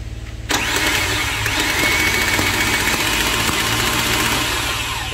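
A Chevrolet Captiva diesel engine cranks briefly, then fires and settles into a loud, steady, clattering idle close by.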